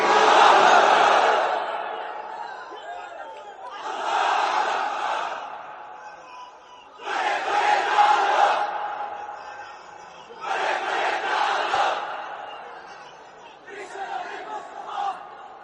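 Large crowd of men at a Bangla Islamic lecture shouting the takbir "Allahu Akbar" in unison, five loud chanted bursts with brief pauses between, the later ones slightly fainter, with no other talk.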